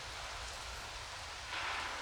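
Steady rain pouring down outside a cathedral in rural France, a continuous hiss of falling water with a brief swell toward the end, no voices.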